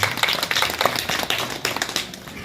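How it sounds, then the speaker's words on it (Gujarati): An audience at a live satsang claps to welcome a saint, a dense and steady patter of many hands at moderate loudness that fades slightly toward the end. "પરમ પૂજ્ય સંત શ્રી એવા વિરમરામ મહારાજને તાળીથી વધાવો"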